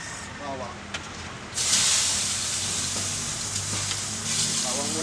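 Garlic sautéed in a pan for spinach and kangkong adobo, giving a steady close sizzling hiss that swells after a second and carries on under a person's talk.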